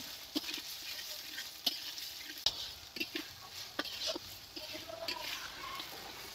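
A spatula stirs and sautés masala with chopped tomato, turmeric and salt in a pan for a prawn malai curry. Irregular scraping clicks and taps sound over a soft, steady sizzle, close and moderately loud.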